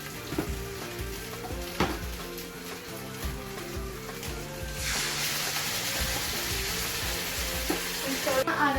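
Base gravy poured into a hot curry pan already holding spices and powders sets off a loud, steady sizzle that swells to a broad roaring hiss midway, close up with a few utensil knocks and muted background music.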